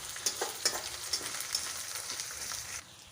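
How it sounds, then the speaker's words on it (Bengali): Chopped tomato and green chili fry and sizzle in hot oil in a pan, a steady close crackle with a few stirring scrapes, then the sizzle drops off near the end. "টমেটোটা ভালো করে তেলে কষে নেব।"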